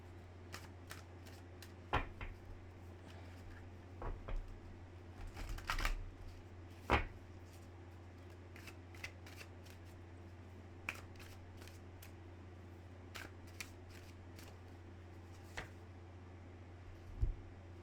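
Tarot cards being shuffled, with scattered crisp riffles and flicks in several bursts, the heaviest cluster early on, over a quiet steady background hum.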